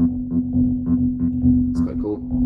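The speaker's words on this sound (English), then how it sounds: "sounds like a sine wave to me" Sustained pure sine-wave bass tone from the Unfiltered Audio BASS-MINT plugin, a steady loud low drone held throughout with faint added harmonic texture above it.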